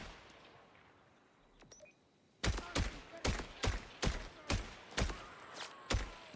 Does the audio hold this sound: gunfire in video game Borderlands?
yes